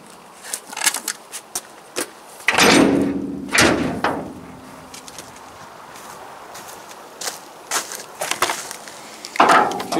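Door of a Norton trailer under restoration swung open, giving a loud wooden thump and scraping creak followed by a second knock, with clicks and handling noises before and after; no talking.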